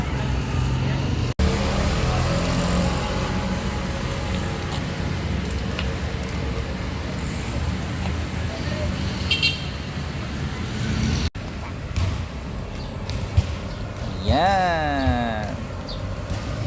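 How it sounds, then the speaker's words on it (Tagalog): Tricycles pass along a shaded street, their motors a steady moderate rumble under ongoing talk, with one nearer vehicle rising and falling toward the end. "Medyo marami nga lang dumadaan na tricycle."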